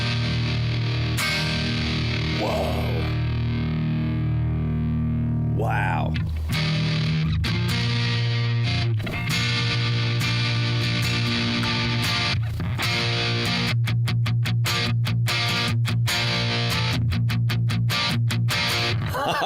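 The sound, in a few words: electric guitar through M-Vave Tank-G '65 Twin Reverb amp model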